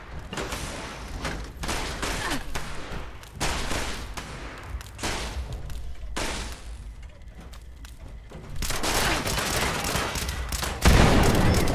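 Gunfire in the video game Fallout 76, repeated bursts of rapid shots in clusters over a dense, noisy battle background, loud and continuous with short pauses and no speech.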